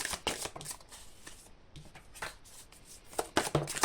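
Tarot cards being shuffled for a reading, a run of crisp riffling bursts and flicks in uneven rhythm, close and fairly quiet with brief pauses between shuffles and no talking.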